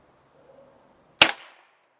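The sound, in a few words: Webley Nemesis .177 CO2 air pistol shot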